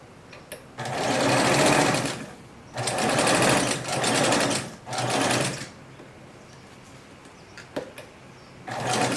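Sewing machine stitching a curved seam at a dress armhole, loud close-up bursts of rapid stitching in four runs of one to two seconds separated by brief pauses, with a few quiet clicks after.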